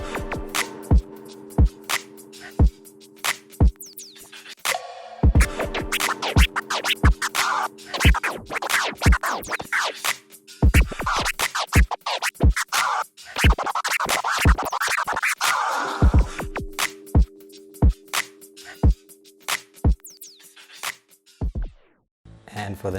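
Crossfader tear scratches cut sharply over a looped hip-hop beat, with steady kick and snare hits and bursts of chopped scratching at close range, loud and continuous throughout.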